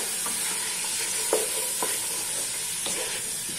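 Tomatoes, peas and other vegetables with salt and black pepper sizzling in a pan, a constant close hiss broken by a few soft scraping stirs, no voices heard.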